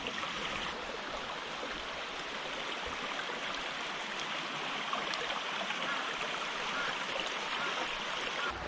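A quiet mountain valley stream near a sandy bank flows steadily throughout, a dense, even rush of water with no voices.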